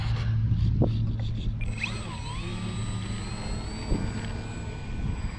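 A HobbyZone Carbon Cub S2 radio-controlled plane's electric motor whines up steadily as it takes off from the ground, a thin, continuous rising buzz heard outdoors at moderate distance.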